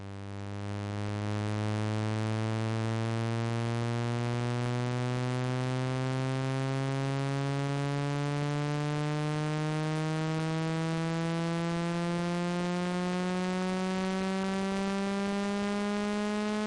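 A buzzy, harmonically rich sawtooth synthesizer tone from the Predator synth in Ableton sustains steadily while its pitch slowly glides upward, growing brighter and harsher over time.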